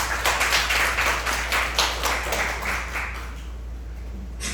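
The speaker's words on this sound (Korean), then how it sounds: "많은 영광의 박수를 주세요." Applause from a church congregation in a former nightclub, steady dense clapping that fills the space, then gradually thins and softens toward the end.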